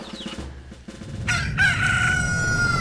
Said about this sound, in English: As the rooster's crowing and the earth shaking.